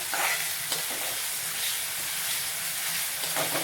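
Finely chopped onion fries in a pan with a continuous close sizzle and hiss, broken by faint occasional stirring scrapes, and no voices.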